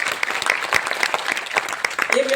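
An audience at a motivational talk bursts into applause, a dense patter of claps at moderate loudness running throughout, with a voice rising over it toward the end.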